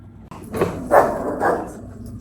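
A dog barks several times in quick succession, loud and close. There are about four sharp, short barks spaced irregularly, with a final bark at the end.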